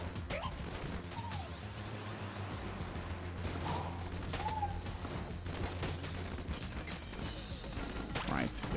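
Rapid video-game gunfire from a powerful gun in Enter the Gungeon, sustained bursts of shots running throughout amid game music and effects, with some talking.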